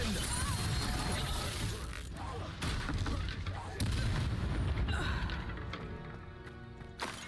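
Confringo blasting spells in Hogwarts Legacy erupt as a string of booming, crackling impacts with shattering debris over steady game noise, while a voice speaks in the background.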